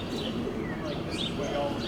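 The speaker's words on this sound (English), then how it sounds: "They're definitely like city birds." City birds in a New York community garden, with soft cooing and faint chirps over steady outdoor ambience, moderately close and without talk.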